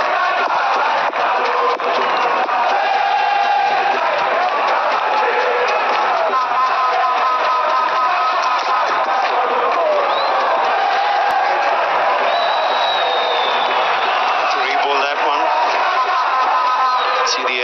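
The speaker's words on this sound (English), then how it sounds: "The crowd is finding their voice" Cricket stadium crowd roaring and cheering, a loud, continuous, dense mass of voices with whoops and shouts sustained for nearly eighteen seconds.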